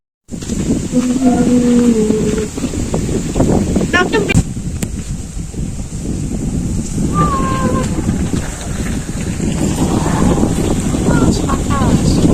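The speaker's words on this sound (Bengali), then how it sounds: "চলেন একটু সামনে বাতাসের শব্দ শোনাই আপনাদের" Strong wind blows across the microphone outdoors in open country, a loud continuous rumbling gust with a few faint tonal calls and clicks in the background.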